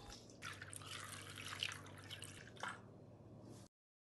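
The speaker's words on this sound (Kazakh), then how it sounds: "Ең бірінші термомикс чашысына сүт құямыз" Milk poured into a Thermomix bowl, a faint close trickling and splashing stream lasting a few seconds before stopping, with no talk.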